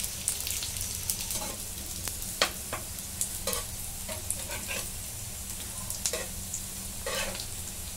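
Crisp alu vadi pieces shallow-frying in an oil pan give a steady sizzle, broken by sharp crackles and light stirring clicks, close and moderately loud with no talking.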